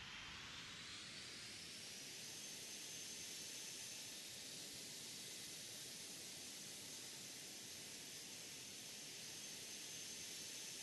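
A jet airliner's engines roar steadily during a takeoff from London Heathrow runway 09 right in a flight simulator, a constant broadband rush with a thin rising whine held throughout, and no voices.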